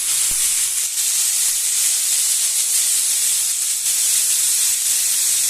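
Chopped capsicum and peas fry with salt in a pan for a vegetable soup, giving a steady, bright, continuous sizzle and hiss throughout, fairly close, with no talk.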